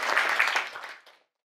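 An audience at a book review concert gives loud, lively applause to welcome an author-lecturer onto the stage, a brisk burst that thins and fades out after about a second.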